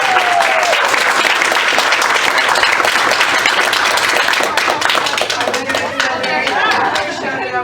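An audience at a school board meeting claps loudly and steadily for an award recipient, dense applause that slowly thins toward the end.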